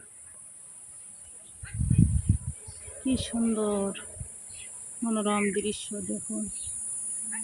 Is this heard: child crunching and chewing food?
no